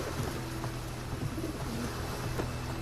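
A carrier pigeon coos in low, repeated throaty notes aboard a ship at sea, set against a steady wash of background noise.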